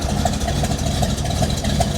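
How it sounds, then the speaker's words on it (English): A 1969 Hurst Olds V8 idles loudly up close, a deep rumbling exhaust with a steady, choppy lope from its cam, running evenly throughout with no voices over it. "the exhaust sound is not copyrighted, so we're going to go ahead and fire that up for you"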